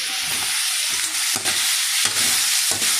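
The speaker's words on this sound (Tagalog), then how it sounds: "haluin natin mga kaguro" Vegetables for semi-chopsuey, seasoned with oyster sauce, liquid seasoning and salt, frying hard in a pan, a loud, dense sizzle with rhythmic stirring scrapes roughly every half second, close up, with no talking.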